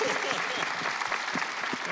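An audience at a film premiere Q&A applauds steadily, a continuous wash of clapping with a voice speaking over it.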